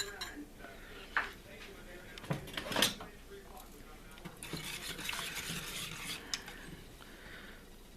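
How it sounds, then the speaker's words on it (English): Butter being mashed and whisked in a pan for a pineapple 7 Up cake: quiet, intermittent scraping and stirring with a couple of clanks from the whisk, plus scattered kitchen handling noise. "Mash up my butter. Let me use a whisk."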